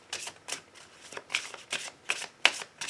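A deck of oracle cards being shuffled by hand, a series of quick riffling flutters in irregular bursts, close and crisp with no voice.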